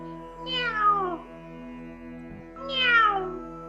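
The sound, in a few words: cat meowing, imitated by storyteller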